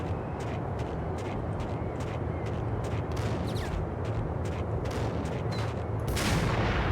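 Sniper rifle fire in the Max Payne video game, with a rapid series of sharp, loud gunshot cracks against dense, continuous action noise, ending in a louder burst near the end.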